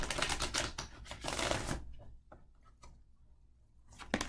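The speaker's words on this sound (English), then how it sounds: "I'm going to shuffle this other angel deck for you." Quick riffling clatter of an angel card deck being shuffled, a dense burst followed by a few scattered flicks and snaps, close and fairly soft.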